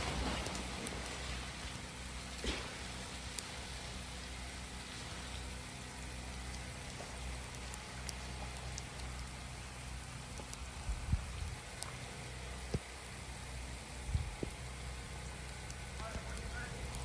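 Freezing rain falls steadily during an ice storm, a soft continuous patter with scattered sharper drips and ticks, heard from fairly near under a faint engine-like rumble.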